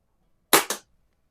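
Two quick sharp pops from a 1950s Challenger Arms Plainsman .22 caliber CO2 pistol, fired close in rapid succession against silence.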